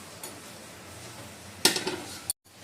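Cooked fried rice is shifted into a big pot, a quiet scraping that gives way to a louder burst of metallic clatter and scraping from a utensil against the pot, then a sudden stop.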